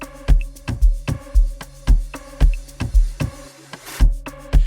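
Amapiano beat plays with a punchy, steady drum pattern of deep kicks and crisp percussion, a bright swelling fill sweeping in just before the fourth second, loud and up front with no talking.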